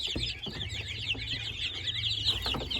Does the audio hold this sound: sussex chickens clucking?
yes